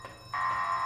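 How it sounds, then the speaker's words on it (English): Electronic alarm in the video game Kona II: Brume, a steady high-pitched tone that jumps abruptly louder partway through and holds, sounding alone with no talk. "Don't you like the alarm? Is it really loud?"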